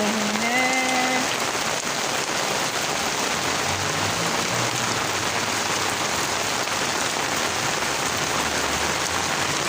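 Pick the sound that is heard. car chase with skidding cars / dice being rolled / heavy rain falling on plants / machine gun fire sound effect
heavy rain falling on plants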